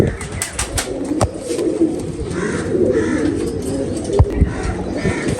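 Caged pigeons coo in soft, repeated rumbling calls close by, with scattered clicks and shuffles of movement in the cage and no talk.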